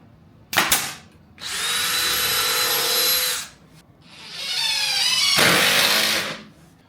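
A power drill drives screws into prebuilt Craftsman wood trim, two long whirring bursts that rise in pitch as each screw seats, preceded by a short clatter, close and loud with quiet pauses between.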